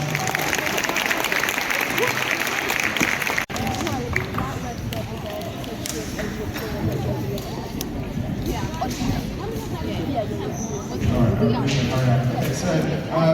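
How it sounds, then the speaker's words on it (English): Sustained applause from a crowd at a youth sports club presentation day in Sydney, continuous and fairly loud throughout, with voices mixed in beneath the clapping. "one last big final round of applause"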